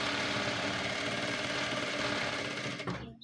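A sewing machine runs steadily and loudly, hemming the folded raw edges of a handkerchief-flare retro skirt, with a continuous whirring drone that cuts off abruptly near the end.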